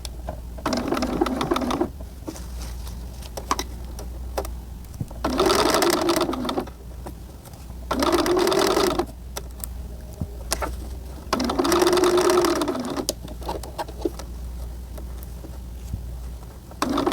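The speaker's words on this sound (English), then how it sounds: "Now sew that collar to the neckline." A sewing machine stitches a denim collar onto a neckline in four distinct bursts of rapid whirring, each lasting a second or two, separated by quieter pauses with a low steady hum underneath.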